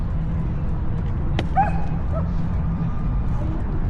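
Dogs at a Humane Society doggy dash in Portland, with a single short yip and a brief whimpering bark rising over steady crowd murmur and ambient outdoor noise.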